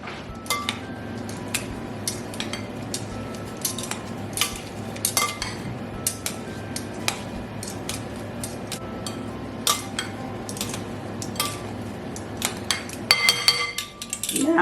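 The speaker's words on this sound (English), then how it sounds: "And then I'm going to stir all this up." A utensil stirs a keto beef carnitas mixture with salt in a pan, giving repeated sharp metallic scrapes and clinks at an irregular, steady rhythm, close and fairly clear.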